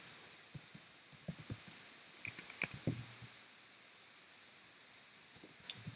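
Sparse, faint keystrokes on a computer keyboard in a quiet room, a few scattered clicks followed by a short quick burst, then near silence with one last tap.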